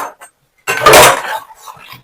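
A mixer grinder jar is washed in a kitchen sink, giving a short burst of clinking and clattering against running water. Faint scattered knocks come before and after.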